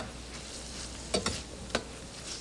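Ham sizzles softly in a pan as parsley is tossed in, a steady faint frying hiss with a few sharp stirring clicks and scrapes, no talk.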